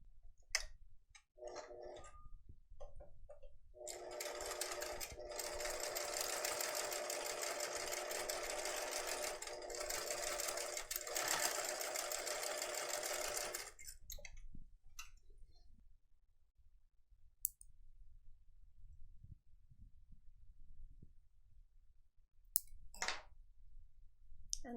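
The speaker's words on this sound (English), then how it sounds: "I'm going to sew this down." A sewing machine stitches down a fabric scrunchie, whirring steadily for about ten seconds with a rapid mechanical chatter, framed by scattered clicks and soft handling noises in an otherwise quiet room.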